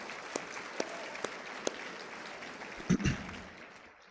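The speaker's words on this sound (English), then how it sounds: "so we want to tell them good luck on the last few weeks, and so let's give them a round of applause" An audience at a high school prom assembly applauding athletes, with faint, thin, distant clapping that continues throughout, a few sharper claps and a brief muffled thump near the end.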